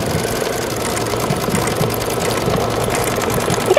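Sewing machine stitching layered fabric flower petals for a 3D posy bunch, a steady continuous mechanical whir with a low rhythmic pulse throughout, close and fairly loud, with no talking.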